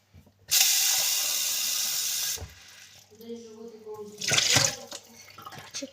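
Water is poured into a glass in a steady hissing rush for about two seconds. Quieter handling noises and a brief voice follow.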